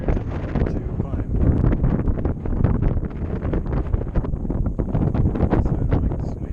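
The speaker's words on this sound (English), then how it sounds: "So I don't like this wind." Strong gusty wind buffets the microphone on an exposed mountain ridge near Sharknose Ridge, a loud continuous rumbling roar with rustling bursts.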